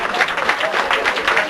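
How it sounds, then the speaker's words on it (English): A wedding crowd applauds in a brief, dense burst of clapping that stays loud and steady throughout. "A big round of applause."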